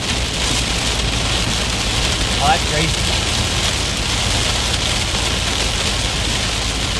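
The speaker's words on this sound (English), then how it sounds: "when you're in heavy rain like this on a major highway" Heavy rain hammers steadily on a car travelling a major highway during strong thunderstorms in Missouri, a dense constant roar with road noise beneath, and a person speaks briefly over it.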